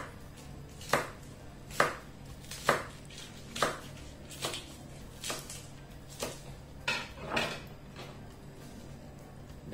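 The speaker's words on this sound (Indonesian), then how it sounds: "Jadi nggak usah dicincang, tapi kita potong kasar aja" A knife roughly chopping carrot, leek and celery on a cutting board, about a dozen distinct close thuds in a steady, slightly uneven rhythm.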